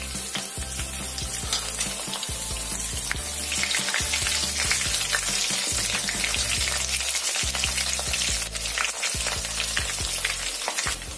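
Cumin seeds and chopped green chillies sizzle loudly in hot oil for a curry, a dense continuous crackle with occasional sputters and stirring.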